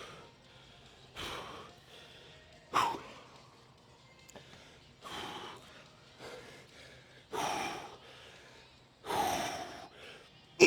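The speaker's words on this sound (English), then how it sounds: "Couple of solid deep breaths, and then time for the hard part." Several heavy, forceful breaths drawn in and blown out between pauses, loud and close, before a back-day weightlifting set in a gym.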